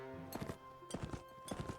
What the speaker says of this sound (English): Oh no, these deserters have horses.